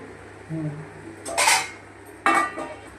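A metal spoon scraping and stirring prawn curry with coriander in a pan, with a faint scrape followed by two louder clattering strokes against the metal, close up and with no talk.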